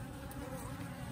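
Honey bees buzz around beekeeping hive frames with wax comb, a continuous low drone close to the microphone, steady and fairly faint, with no voices.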